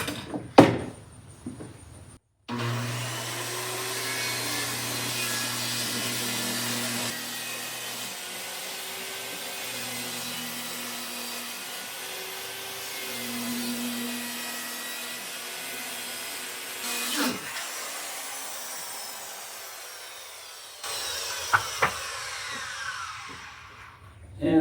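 Circular saw ripping through wood along a straight guide: the motor spins up with a sharp start, then holds a steady, loud whining cut for about eighteen seconds before shutting off, followed by a few light knocks.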